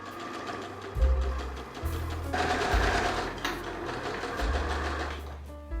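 A sewing machine stitching the waistband of a reversible skirt, joining two skirt layers: a steady close mechanical whir that runs in bursts with brief changes in speed and small pauses, no voice present.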